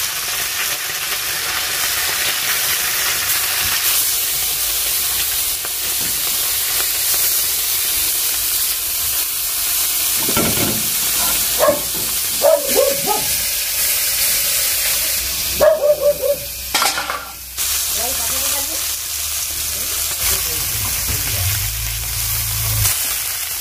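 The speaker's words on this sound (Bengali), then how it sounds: "এই যে আমুদি মাছ ভাজা হচ্ছে" Amudi fish frying in hot oil in a home kitchen, a loud steady sizzle and hiss running throughout, broken by a few brief clatters and squeaky bursts around the middle.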